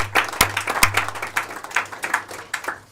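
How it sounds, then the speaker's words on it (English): A small group claps briefly for fiscal staff at a Senate Finance and Assembly Ways and Means subcommittee hearing, with distinct hand claps over a steady low hum in a committee room, thinning out after a few seconds. "if we can give them all a big round of applause,"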